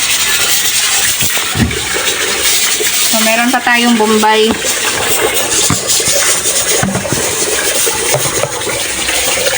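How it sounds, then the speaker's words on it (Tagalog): A pressure cooker hisses steadily while cooking pork stew (nilagang baboy) in a home kitchen, giving a loud, constant airy rush. A person talks briefly partway through, and a few faint kitchen clinks sound alongside the hiss. "yung naririnig nyo guys is gumamit ako ng pressure cooker para"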